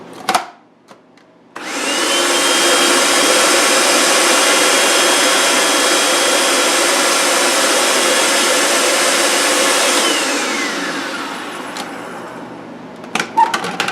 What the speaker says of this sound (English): Let's whiz it up one more time.